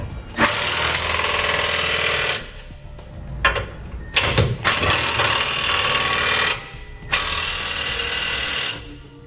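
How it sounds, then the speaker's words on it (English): On a 2019 Ram, a power tool with a 3/4 inch socket tightens flange nuts for a trailer hitch receiver, loud close bursts of whirring and hammering broken by short pauses. "I'm going to come back with a 3/4 inch socket and tighten up my 2 flange nuts."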